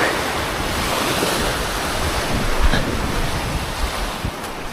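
Sea surf washing onto a Goan shoreline during line fishing, a steady broadband roar of waves with a slightly louder swell midway, mixed with wind buffeting the microphone.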